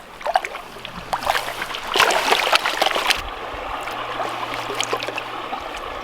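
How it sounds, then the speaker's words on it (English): Bucketed dirt being washed in water while gold prospecting, with close splashing and sloshing that swells in the middle and then settles into a steadier trickle, with no talking. "Let's go wash this dirt and see how much we get."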